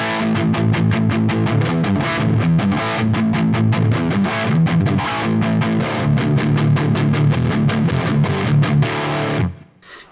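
Electric guitar in drop D played through a Havok Elektronix FO-2 FET Overdrive pedal, thick gritty near-distortion chugging riffs and chords, loud and sustained before cutting off abruptly at the end.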